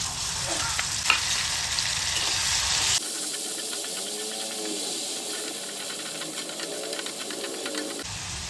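Green chili and garlic paste sizzles and crackles in hot oil, a dense continuous frying hiss with brief stirring scrapes, loud and close, no voices.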